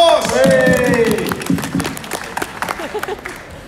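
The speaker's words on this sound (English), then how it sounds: "Give her a round of applause!" Audience applause at Comicon 2019, a dense burst of clapping from a live crowd, loud at first and thinning out into scattered claps, with cheering and voices mixed in.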